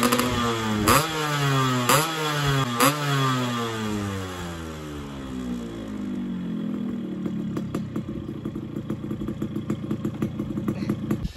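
A Yamaha RX135 two-stroke motorcycle engine with a chrome expansion chamber revs up several times with sharp rising whines, then settles into a rattling, popping idle close by.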